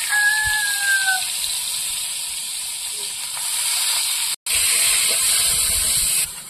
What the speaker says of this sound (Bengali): বাকি ঝিঙে গুলো এভাবে ভেজে নেবো।